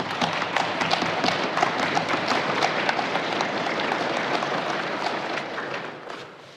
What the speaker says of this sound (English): give him a big round of applause for being here today